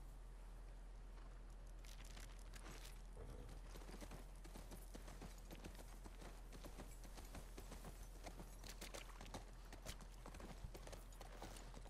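Horse hooves clip-clopping at a walk in The Last of Us Part II, a steady stream of soft repeated steps under a constant low game-ambience hum, fairly quiet throughout.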